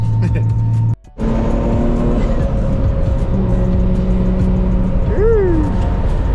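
A turbocharged 800-horsepower Infiniti G37 drives at night, its engine droning steadily and loudly throughout with a brief sharp cutout near the start, while someone talks over the engine noise.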